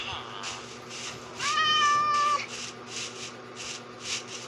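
A cat meows in a video game, one drawn-out clear meow in the middle with softer repeated mews around it, while a person talks over the game audio.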